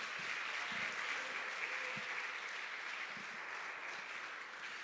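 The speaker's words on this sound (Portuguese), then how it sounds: "Dê uma salva de palmas aí ao Senhor bem forte." A church congregation claps together for several seconds at a worship service, a steady, dense wash of applause that stays strong and slowly eases off toward the end.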